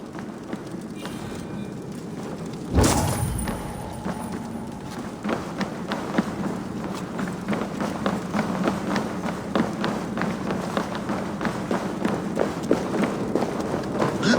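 Many footsteps in Assassin's Creed Valhalla, a heavy thump followed by a steady run of rhythmic tapping steps that carries through to the end without speech.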